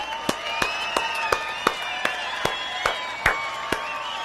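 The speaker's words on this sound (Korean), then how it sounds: "선생님이 합격을 미리 축하드리면서 박수 한번 칠까요?" About a dozen evenly spaced claps, sharp and close, sound during a Korean history lecture, set over a steady tonal background hum.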